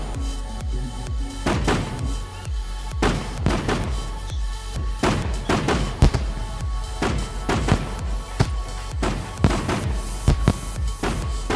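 Rapid bursts of fireworks in the video game SCUM crackle and thump continuously, with many sharp pops and booms overlapping in a dense, busy barrage.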